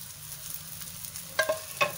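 Green onion and coriander stirred into frying egg curry masala with turmeric and garam masala, a soft steady sizzle with a couple of sharp utensil clicks near the end.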